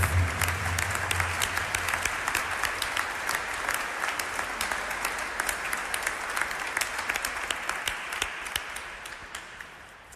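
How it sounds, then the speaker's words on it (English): Sustained audience applause at a Wisconsin state education event, honoring students after a youth singers and drum circle performance; dense, steady clapping from a large crowd, fairly close and loud, easing slightly toward the end with no talk. "Let's give a round of applause for all the students."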